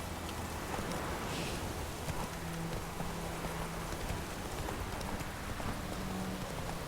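Roach, the horse in Witcher 3, gallops with a quick, even clip-clop of hooves under a constant hiss of rain.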